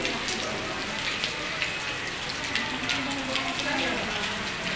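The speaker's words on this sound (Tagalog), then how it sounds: "Umaga pa lang, umuulan na." Steady rain pours down continuously, a dense, even hiss with scattered drops pattering on a surface nearby.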